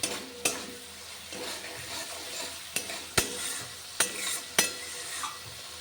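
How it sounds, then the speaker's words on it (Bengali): A spice paste is stir-fried in a pan, with a soft continuous sizzle broken by a series of sharp spatula knocks and scrapes against the metal and no voices. "একদম খুব সুন্দর করে কষিয়ে নিচ্ছি মশলাটা"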